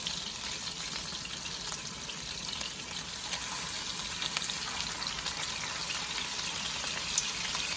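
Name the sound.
pot roast searing in a hot pan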